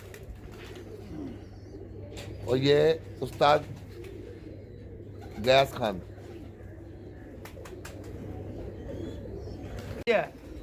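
Rampuri pigeons coo in a few deep, throaty bursts close by, with someone talking in the gaps between calls.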